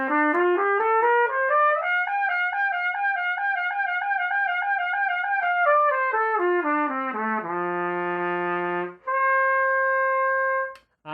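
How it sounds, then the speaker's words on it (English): A trumpet plays a lip flexibility exercise, climbing and falling through smooth slurred arpeggios before ending with rapid lip trills and a sustained high note, loud and close with no talk. "it continues on to the lip trills."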